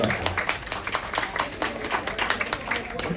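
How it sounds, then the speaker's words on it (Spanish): Audience applause at a Cuban-exile tribute dinner honoring José Martí, a steady patter of many hands clapping under and between spoken remarks from a nearby voice. "Otra vez le pido un aplauso para Lilo Villaplana."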